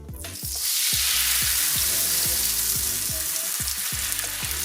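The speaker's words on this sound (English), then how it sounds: "Dip our tortilla and then" A birria tortilla dipped in the oil skimmed off slow-cooked beef and bone marrow broth hisses loudly on a grill, a dense steady sizzle that swells in after a moment, with repeated low taps and clunks underneath.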